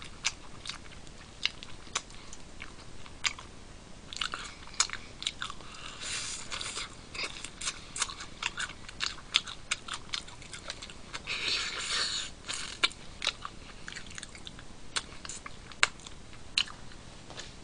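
Close, crisp biting and crunchy chewing of fried chicken wings, with irregular bites and soft mouth sounds continuing steadily throughout.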